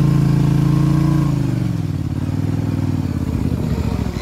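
Polaris Sportsman ATV engine, 850 or 450 class, droning loud and close while the wheels spin in a mud hole, a steady hum that sags and roughens into churning clatter as the tires lose grip.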